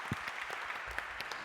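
A brief burst of audience clapping at a Refugee Week 2021 concert as a guest walks on stage, a soft, steady patter of many hands.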